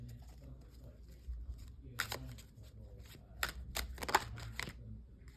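Tarot cards shuffled and drawn by hand during a January reading, giving soft papery riffles and sharper snaps of cards in several bursts, close and fairly quiet, with low room noise underneath.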